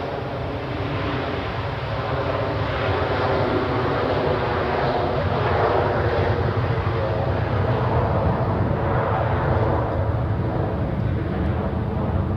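Airbus A330 airliner engines roar steadily at Zurich Airport, a broad continuous rumble heard from a distance with no talk.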